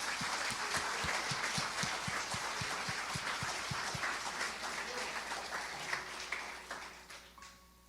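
A church congregation applauds, with rhythmic claps keeping time at first and then loosening into a broad wash of clapping and cheering that slowly fades, with a faint sustained tone entering near the end.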